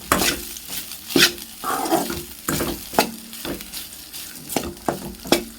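A spoon stirs leftover rice with tempering in a hot pan, scraping and clinking in an irregular rhythm over a steady sizzle, close and fairly loud.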